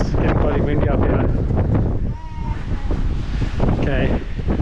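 Strong gusts buffet the microphone on a mountain summit, a loud, rough roar that rises and falls across several seconds while people talk over it.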